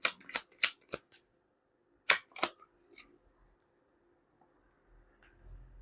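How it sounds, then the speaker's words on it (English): A deck of cards is shuffled in a quick run of sharp riffling bursts, then a second short burst after a pause, close and clear, followed by near silence with a faint low rumble. "You saw me shuffle, right?"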